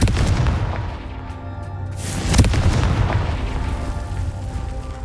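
A Confringo fire spell explodes in Hogwarts Legacy with a deep rumbling boom, its burst peaking midway over a sustained low roar of game noise.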